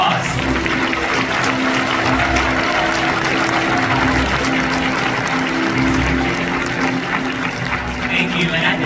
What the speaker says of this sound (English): Let's give them another big warm round of applause